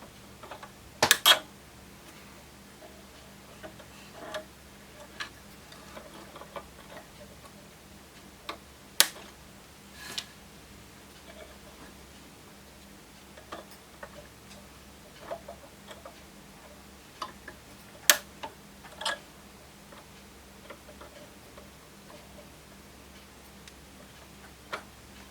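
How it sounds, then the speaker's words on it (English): Wire cutters snip the soldered legs off capacitors during repair of an HP 59306A relay actuator: sharp, isolated clicks spaced several seconds apart over a quiet background, with no talking. "because these are wrapped around and soldered, I'm just going to cut the legs off"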